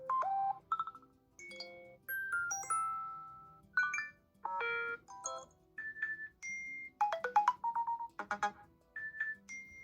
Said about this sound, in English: And now let's go through the alert tones as well.